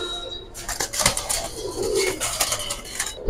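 Giribaz pigeons cooing in a loft, soft repeated coos and light rustling of wings close by, with a faint clatter in the background.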